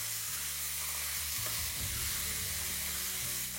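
Lemon ginger chicken and vegetables stir-fry on high flame in a steady, loud, close sizzle, with stirring scrapes shifting through it and no talk.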